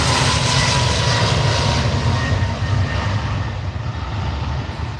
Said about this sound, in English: That's the EasyJet A321 off to Lisbon.